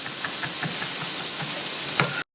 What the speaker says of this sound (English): So now I'm just going to sear the sides.